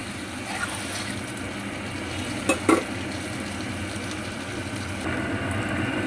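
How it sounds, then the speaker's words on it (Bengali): Paneer being stirred into a chili paneer curry in a pan, with a steady close sizzle-and-scrape texture and a couple of brief clatters of the spoon against the pan partway through. "এরপর এর মধ্যে আমি পনিরটা দিয়ে দেবো, পুরোটা সম্পূর্ণটা ভালো করে মিশিয়ে দেব।"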